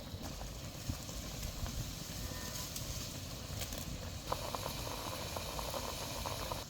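Amla gooseberries simmer in jaggery syrup, giving a steady, fairly quiet bubbling and hissing that runs throughout with small pops and crackles.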